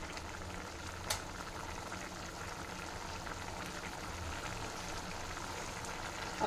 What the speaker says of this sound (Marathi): असं त्याला एक उकळ येऊ देणार आहे